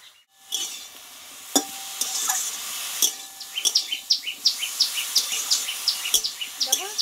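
Greens and stalks stir-fried in a pan, a light sizzle with quick repeated scraping stir strokes growing denser, close and fairly clear.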